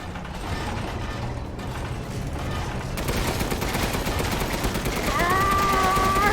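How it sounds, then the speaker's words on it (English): A tank's machine gun in Resident Evil Village fires in fast continuous bursts, loud and dense with mechanical clatter, building in intensity toward the end without speech. "machine gun."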